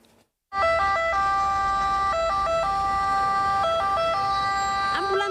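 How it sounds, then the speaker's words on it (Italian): An ambulance siren wails loud and close in a two-tone rising and falling pattern, the emergency vehicle stuck in jammed city traffic among buses and cars in Treviso, Italy, over a low rumble of engines. "Bloccata nel traffico in tilt nonostante le sirene spiegate, il mezzo di soccorso resta intrappolato tra bus e auto"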